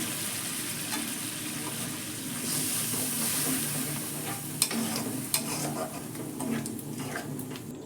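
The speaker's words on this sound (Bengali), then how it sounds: "একটু কষে নেব দেখুন মশলার থেকে তেল বেরিয়ে আসছে" A masala paste of poppy seeds, cashews, two kinds of mustard and coconut fries over lowered gas, a soft steady sizzle with occasional stirring scrapes and a couple of sharp clinks, close and without talk.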